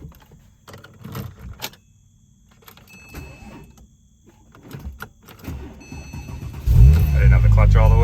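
Keys jangle and a voice speaks briefly, then a 2007 Porsche 911 Turbo engine cranks and catches near the end, settling into a loud steady idle.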